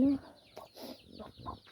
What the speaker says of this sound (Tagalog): naglagay ako ng pagkain ng manok.